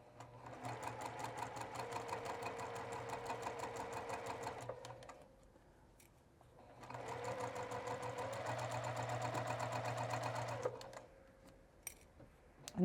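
A sewing machine stitches fabric around a pattern corner, running in two steady bursts with a short pause between as the fabric is turned, close and fairly quiet.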